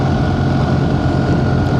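Steady, loud engine and wind roar from a 2025 BMW R1300 GS motorcycle ridden through snowy winter countryside, a continuous close rumble with no breaks.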